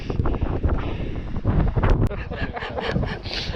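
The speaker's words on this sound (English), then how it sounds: "this wind is pretty chilly" Chilly wind gusts across a mountain pass, buffeting the microphone with loud, rumbling bursts and rustling that rise and fall unevenly over a few seconds.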